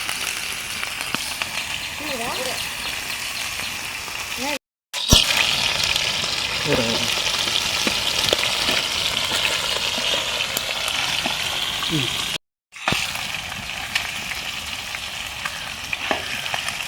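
Viral (murrel) fish sizzles steadily in hot oil, a dense continuous frying hiss that runs nearly throughout, broken by two short gaps, with faint background sounds beneath.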